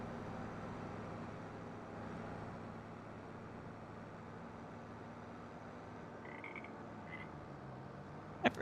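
Frogs croak in a steady, dense chorus across a rural scene in the video game Farming Simulator 25, a continuous low rattling drone with faint distant traffic-like hum and a few brief higher calls near the end.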